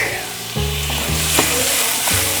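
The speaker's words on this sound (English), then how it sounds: "In goes our leek." Chopped leek hits a pan of hot olive oil and butter, a steady, close crackling sizzle with faint stirring clicks and no talking.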